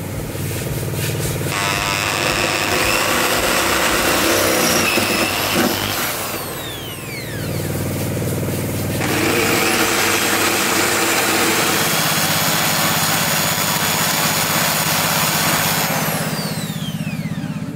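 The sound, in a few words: power drill drilling with drill bit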